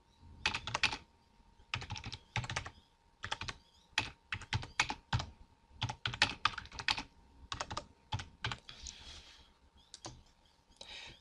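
Name being typed on a computer keyboard: close, quiet clusters of rapid key clicks in uneven bursts separated by short pauses, with no voices.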